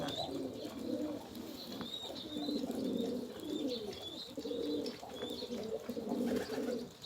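Pigeons coo repeatedly in a loft, with overlapping soft rolling calls close by and a few higher chirps from other birds, no talking.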